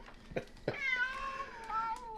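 A cat lets out a long, drawn-out meow after a couple of short sharp sounds, fairly close and clear against a quiet background.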